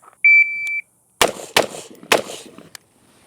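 Q Sugar Weasel firearm fired at USPSA targets from 7 yards, preceded by a shot timer beep, then three loud sharp gunshots in quick irregular succession followed by a fainter click.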